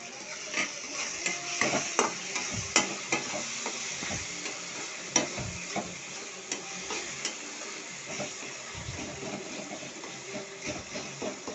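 Tomatoes fry in oil with salt in a pan for cauliflower gravy and sizzle steadily. A spoon stirs them with repeated scraping and knocking strokes close by, and no one speaks.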